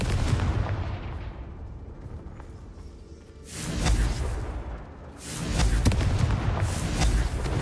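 Bombarda and Confringo spells detonate in the Hogwarts Legacy game as heavy, booming blasts with rushing whooshes, two large bursts swelling loudly over a rumbling background.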